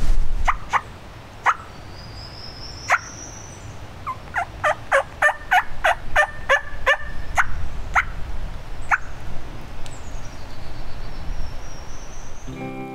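A wild turkey gobbler on public land in the South, Alabama, gobbles repeatedly in a rapid string of loud, rattling calls, with other birdsong and woodpecker sounds around it in an early-morning woods.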